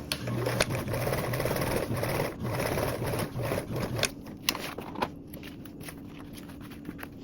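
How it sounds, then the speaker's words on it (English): Sewing machine stitching the lining flap of a tote bag with a narrow seam, a close steady whirring hum with rapid needle ticking, then slowing into a few separate clicks near the end. "I'm only going to be stitching with a 1/8 seam allowance"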